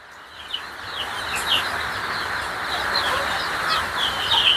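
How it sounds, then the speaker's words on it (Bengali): Laying hens cluck on a rooftop poultry farm near a home in Gausia, with scattered short calls over a steady, close farmyard hum and no speech. "এখন যে আমরা মুরগি আনলাম, ডিমের মুরগি আনলাম"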